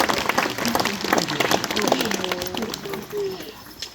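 Outdoor spectators applaud at a sled dog demonstration in Denali, a light scattered patter of claps with voices and a few calls mixed in, fading toward the end.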